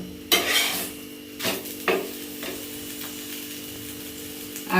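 Soft steady sizzle of paratha flatbread cooking in a pan, broken by a few scraping or pressing sounds, fairly close, with no talking.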